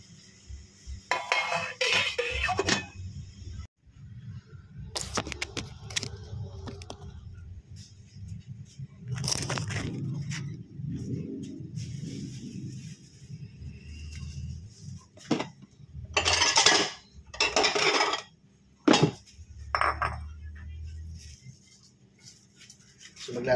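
A lid set back onto a cooking pot of pork nilaga, with several clanking metal knocks and scrapes scattered among quieter kitchen noise, close and fairly loud.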